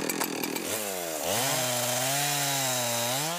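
A chainsaw cutting down pitch pine trees in a forest, loud and close, the engine rising from idle to a sustained high whine as the blade bites into the wood.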